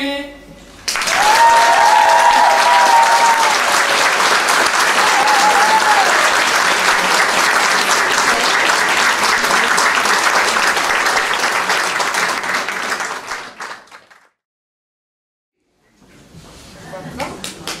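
Sustained loud applause from a concert audience, dense clapping filling about thirteen seconds before fading to silence, then clapping briefly resumes at the end.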